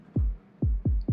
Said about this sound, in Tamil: அடிக்கடி ஹார்ட் பீட் சவுண்ட் கேட்குதுன்னு சொல்கிறியே